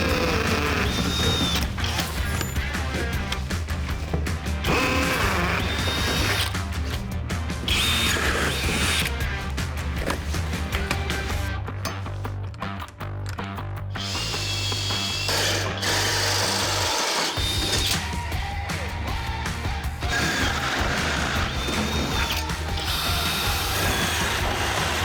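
A power drill fitted with Spyder accessories runs hard in a timed drilling challenge, giving a loud, continuous grinding whir broken by short pauses and bursts of ratcheting clatter.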